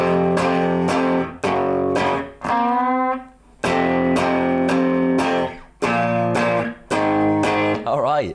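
An electric guitar slowly plays a riff, with chunky repeated chords, a sliding bend in the middle and ringing sustain, close and loud with no talking.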